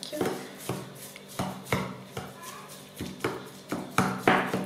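White sauce ingredients being mixed in a bowl, with a steady series of close scraping, tapping strokes of a utensil about every half second, alone without talk.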